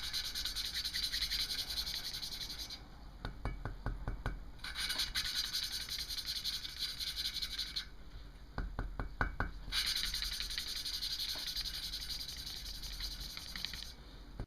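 A valve seat on a 1985 Kawasaki VN750 motorcycle engine is hand-lapped with fine grit compound. Close gritty rubbing strokes come in short rhythmic bursts with pauses between them, over a steady high hiss.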